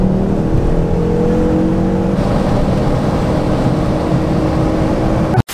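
A Ford Focus RS drives off with a loud, continuous engine drone heard from inside or close by, rising gently in pitch before cutting off abruptly at the end.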